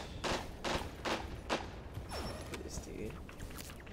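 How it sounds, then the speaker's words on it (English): Submachine-gun fire in the Rogue Company shooter game comes in several sharp, loud bursts at a steady rhythm, followed by quieter in-game effects. "SMG fire"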